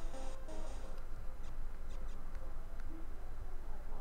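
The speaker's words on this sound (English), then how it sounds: "Rats. Yep. We are in a sewer, Snake." Rats squeak in a sewer level of the video game Metal Gear Solid: Ghost Babel, a few short, high chirps early on, then scattered faint squeaks over a steady low rumble.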